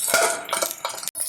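Pearl spot fish being dropped into a curry pan, then a lid set on top, giving a few quick metallic clinks and clatters of cookware, close and brief.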